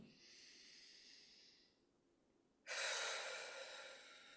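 Deep breathing during a somatic breathing exercise: a soft, airy breath fades away, a short pause follows, then a louder, rushing breath begins and carries on, close and alone with no talk.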